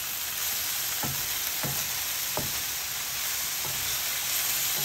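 Chicken pieces fry in a pan for couscous stew, a constant loud sizzle broken by several soft thuds and scrapes as pieces are turned over.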